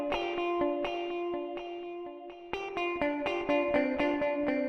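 Distorted guitar-like music with chorus and reverb effects runs through a Reaper DAW session, sustained chords then a busier rhythmic passage of repeated struck notes, steady and fairly loud with no talking.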